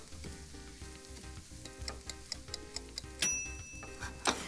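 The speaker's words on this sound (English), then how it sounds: "I'm just gonna toss them together and just saute it for about 3 minutes" Panko breadcrumbs sauté in a pan with a quiet, steady sizzle while a utensil taps and scrapes now and then. The sound is close and faint, with small clicks and a few sharper clinks near the end.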